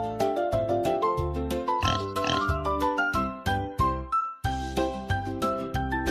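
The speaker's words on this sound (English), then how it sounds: "Pig." A pig oinks in a few short grunts early on, set against gentle plucked music that carries on throughout.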